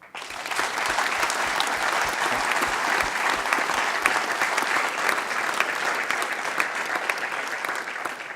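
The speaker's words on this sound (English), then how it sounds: "let's give a very big applause for these people." Sustained, hearty applause from a conference audience at a main-track keynote session, many hands clapping in a dense, even roar that swells quickly and holds steady at a moderate level.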